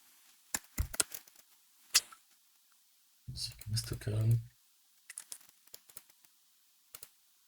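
A command being typed on a computer keyboard during a capture-the-flag hacking session, a few sparse clicky keystrokes near and fairly crisp, with a brief stretch of talk in the middle.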